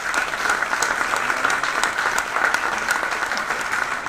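An audience at a gala evening in a Monaco hotel claps steadily and warmly, with dense, continuous applause filling the room.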